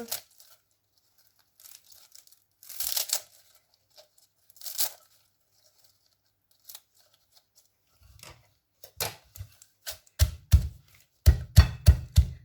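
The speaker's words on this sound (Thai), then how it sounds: "หั่นให้เขาเล็กนิดนึง" Sharp knife chops coriander stems small on a board, sparse at first, then a quickening run of crisp, close strikes toward the end.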